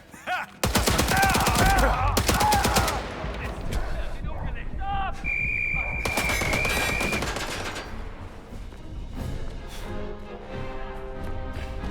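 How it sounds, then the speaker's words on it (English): Gunfire in the action game Indiana Jones and the Great Circle: a loud rapid burst of shots followed by scattered ringing impacts and game effects, with a voice speaking over part of it. "Right, guns are loud."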